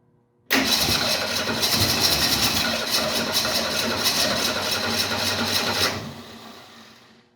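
A 1968 Mustang engine cranks over on the starter while drawing fuel from the tank, a loud, busy, rapid churning that begins abruptly, runs for about five seconds and then cuts off.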